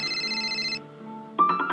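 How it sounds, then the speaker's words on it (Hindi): A phone ringtone plays loudly in a steady, repeating electronic tone that stops partway, then a brief louder burst of sound follows. "ये उस आग लगाने वाले का ही फोन है"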